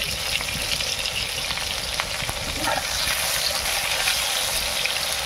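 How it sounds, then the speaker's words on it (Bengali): Eggplant slices fry in hot oil in a village kitchen pan, giving a steady, loud broadband sizzle that runs throughout with faint crackles and the occasional stir. "বেগুন ভাজা হচ্ছে।"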